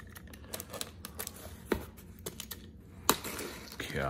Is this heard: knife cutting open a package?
yes